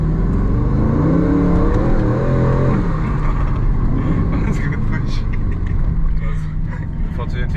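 A 2025 Aston Martin Vantage V8 drives on the Monaco F1 street circuit, its engine a continuous loud rumble that rises and falls with revs while people talk inside the car.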